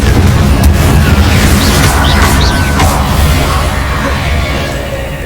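A Confringo spell blast exploding in Hogwarts Legacy, a loud deep boom with crashing debris and shouting that rumbles and slowly fades away.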